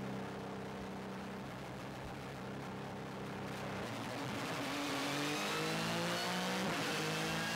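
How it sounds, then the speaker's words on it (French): A Porsche 911 GT3 RSR flat-six engine producing 480 horsepower accelerates hard on a race circuit, a steady, faint-to-moderate engine roar with climbing pitch sweeps as revs build and the car shifts through gears. "Le Flat 6 libère 480 chevaux rageurs et sauvages"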